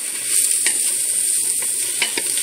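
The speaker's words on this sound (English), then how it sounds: "We only want to cook these long enough just so that the mushrooms start releasing their juices." Mushrooms sautéing on the sauté setting of an electric pressure cooker, a bright steady sizzle with occasional soft stirring clicks and scrapes, close and continuous.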